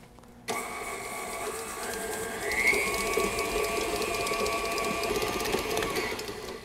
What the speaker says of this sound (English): And I'm using this mixer with a paddle.